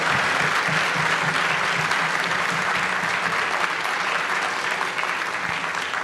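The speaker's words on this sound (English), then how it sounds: "So give yourself a round of applause." An audience at an awards ceremony for young alumni claps in a steady, dense round of applause that stays at an even level for about six seconds, heard alone.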